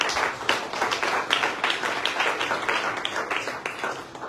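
A church congregation claps in a steady rhythmic beat, the claps sharp and fairly near, keeping a regular pulse throughout with no voices over them.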